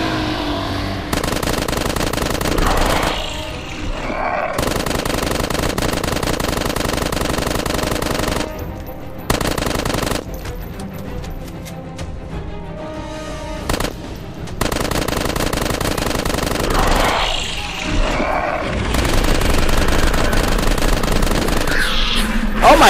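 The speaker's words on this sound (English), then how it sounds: "how many fucking bullets do I have to shoot that guy with?" Rapid bursts of automatic gunfire in the video game FossilFuel 2, fired at a Goliath boss spinosaur, come in long sustained volleys broken by short pauses, loud and close with no talk over them.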